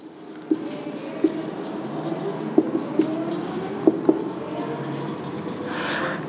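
A pen scratches across paper in short strokes with several sharp taps as it touches down, fairly close and moderately quiet over a low room hum.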